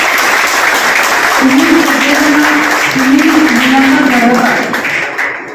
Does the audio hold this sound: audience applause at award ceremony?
yes